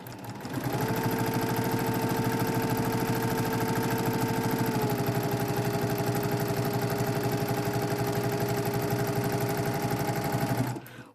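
A sewing machine stitches quilt pieces together in one continuous fast run of about ten seconds, its steady motor whir and rapid needle clatter close and even, with no talk.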